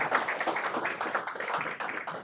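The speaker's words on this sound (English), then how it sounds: "A round of applause" Scattered audience applause for a speaker being called up at a policy panel event, a short burst of dense clapping at moderate level with no talk over it.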